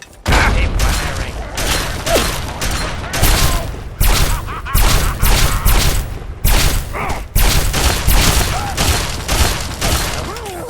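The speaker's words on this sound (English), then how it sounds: "Keep firing." Heavy, sustained gunfire from Fallout 3 in near-continuous loud bursts with booming impacts and brief gaps, close and dense, with faint shouting voices mixed in.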